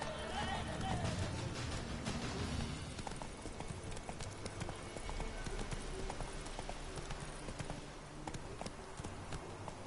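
Galloping horse hooves in The Witcher video game, a fast continuous clip-clop under a dense wash of game ambience, with a voice talking over it.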